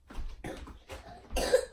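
A child gives three or four short, harsh coughs in quick succession, close and moderately loud, with brief pauses between them.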